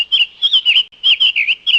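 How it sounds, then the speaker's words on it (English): A tanager calls in a rapid run of high, warbling chirps, several quick bursts close together with a brief pause midway, loud and near with no other sound. "tanager,"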